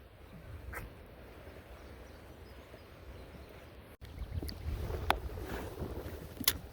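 Wind rumbles at a local creek, a low buffeting roar against the microphone that grows stronger partway through, with occasional faint ticks and knocks.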